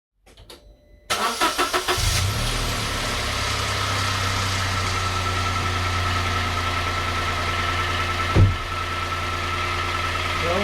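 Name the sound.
Toyota Aygo 1.0 liter engine starting and idling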